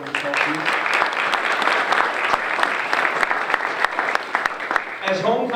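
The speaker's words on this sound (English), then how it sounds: "So how about a round of applause for everyone who's helped you?" Audience applause at an Ohio State regional campus homecoming crowning ceremony: dense, sustained clapping from a sizeable crowd with sharp individual claps standing out, fading slightly at the end.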